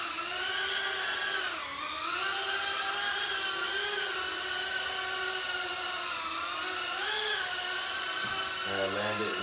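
Small Aurora 90 drone with an unpredictable drift, motors whirring steadily and loud as it hovers, the pitch bending up and down as it wanders.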